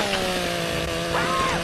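A video-game chainsaw in Broforce revs steadily for the whole moment, a loud buzzing drone with shifting pitch, over game sound effects and music.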